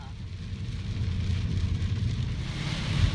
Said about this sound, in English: some of the worst rain that we've actually ever driven in